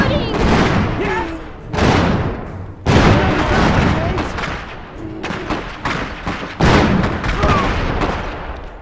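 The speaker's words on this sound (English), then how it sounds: "They're shooting!" Battlefield gunfire and heavy booms from the Iron Harvest strategy game, loud repeated bursts of shots and artillery-like blasts arriving in waves with short lulls, while voices talk throughout.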